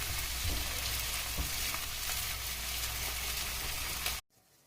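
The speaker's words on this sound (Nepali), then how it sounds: "चाउमिनको साथसाथै म फ्राई चिकन पनि राख्न गइरहेको छु।" Chow mein hisses loudly in a hot pan as fried chicken is added, with a dense, continuous sizzle and a few stirring knocks that cut off abruptly near the end.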